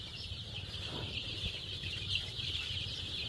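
Chickens on a poultry farm cluck faintly and intermittently beneath a steady, high background hum and low ambient noise.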